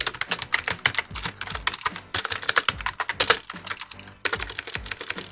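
Code goes in on a computer keyboard in quick, uneven bursts of close, crisp key clicks with brief pauses between runs of typing and no voices.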